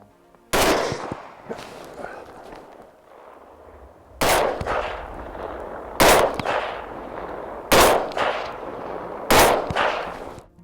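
Rifle shots crack out at moving wild hogs, five sharp reports spaced a second or two apart, each with a rolling echo outdoors.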